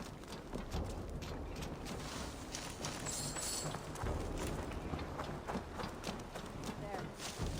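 Horse hooves clop in a continuous rhythm while riding in the video game Assassin's Creed Valhalla, with game ambience underneath and a voice talking over the hoofbeats.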